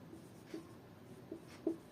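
Chalk or marker strokes on a classroom board during a chemistry lesson, a few short scratchy taps and strokes, quiet and close, with no talking.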